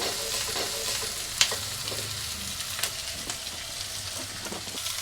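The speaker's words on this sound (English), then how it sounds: "I'm gonna cook these until the vegetables start to shrink and the onions" Vegetables and onions stir-fry in a pan for sweet and sour rice noodles, giving a continuous near sizzle with scattered scrapes and taps of stirring.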